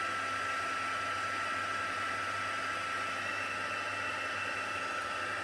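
A hair dryer blows steadily on a Christmas craft piece, a loud continuous broadband whoosh with a low motor hum that stays level throughout, with no talking.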